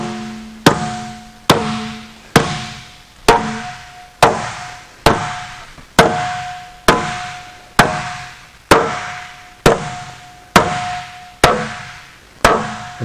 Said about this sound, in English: And the process of hammering this